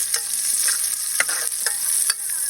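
Shallots and garlic fry in hot oil for a pork hock dish, giving a loud, steady sizzle broken by repeated stirring scrapes of a utensil in the pan.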